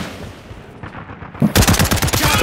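Rapid automatic gunfire from the shooter game Caliber erupts partway through, a dense run of close, loud bursts after a quieter stretch of background.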